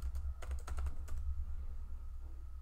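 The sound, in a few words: typing a search on a computer keyboard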